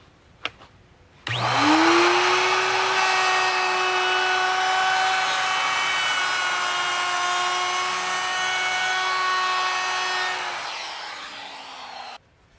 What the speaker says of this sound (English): take my router bit with kind of a rounding edge bit on